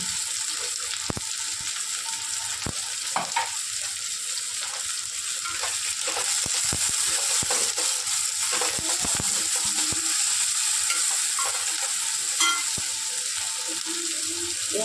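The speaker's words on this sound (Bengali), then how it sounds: "পেঁয়াজ কুচি দিয়ে দেবো সব পেঁয়াজটা দেবো না অল্প খানিকটা আমি ভাজবো ফ্রাই করবো" Chopped onion fries in oil in a pan for restaurant-style palak paneer, a steady close hiss and crackle with occasional sharp clicks and scrapes of a utensil, and no talking.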